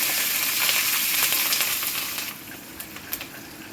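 Dried red chilies crackle and hiss loudly in hot oil while tempering a ginger curry, a dense continuous sizzle that drops off after a couple of seconds into softer scattered pops and spits.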